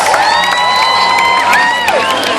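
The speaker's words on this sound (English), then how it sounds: "Give me the cheering section for the red team. Make some noise." An arena crowd cheers loudly for the red team, a dense roar of shouts, whoops and high children's voices swelling and holding without a break.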